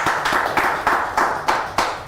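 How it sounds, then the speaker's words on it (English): A conference audience at an African youth leadership event claps in a short burst, a dense close patter of many hands pulsing in quick waves, with no voices. "can you clap for him,"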